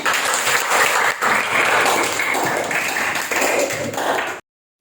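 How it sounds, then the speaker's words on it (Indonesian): A classroom of students applauds a classmate named Putri, a dense burst of clapping that runs steadily for about four seconds before cutting off abruptly. "Tepuk tangan buat Putri."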